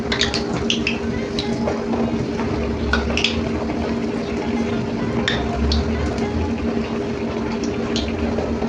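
Methi vada frying in hot oil over low heat gives a steady dense bubbling hiss, with faint clinks and scrapes of a utensil in the pan and a low background hum.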